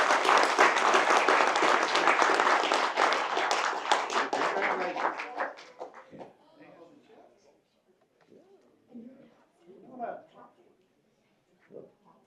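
An audience at a council meeting gives dense, loud applause for the Parade of Lights 2024 winners. The clapping fills the room for about five seconds, then fades into scattered faint claps and room noise.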